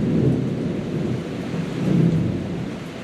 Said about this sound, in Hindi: और बिजली बहुत गंदी कड़क रही है।